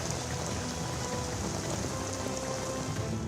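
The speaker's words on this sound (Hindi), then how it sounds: "पहाड़ों में जिस तरीके से लगातार बारिश हो रही है" Heavy rain falling in Delhi, a steady hiss of drops pattering on surfaces, even and moderately quiet throughout.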